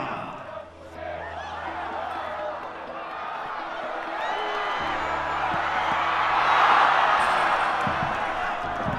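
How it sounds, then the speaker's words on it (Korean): Home football crowd at an FC Anyang versus Seoul E-Land FC season-opening match, cheering and clapping across the stadium, a broad roar swelling toward the middle and staying loud. "팬 여러분의 힘찬 응원의"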